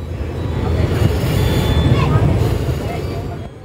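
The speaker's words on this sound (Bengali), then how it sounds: "ট্রেন এখন ঢুকছে শিলিগুড়ি জাংশনে।" A passenger train rolls into Siliguri Junction station at night, its loud, steady rumble and rattle of carriages filling the scene before easing off at the very end, with voices murmuring underneath.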